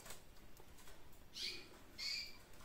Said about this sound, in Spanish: Qué voces tienen y qué potencia tienen estos pájaros.